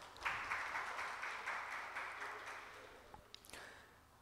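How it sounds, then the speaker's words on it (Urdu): People seated at the Jashn e Jaun Elia literary event break into applause that swells quickly, then thins and fades over a few seconds, faint and somewhat distant, ending in a few stray claps. "ایک دفعہ جتنے بھی لوگ بیٹھے ہیں اگر اپنے لیے تالیاں بجا دیں"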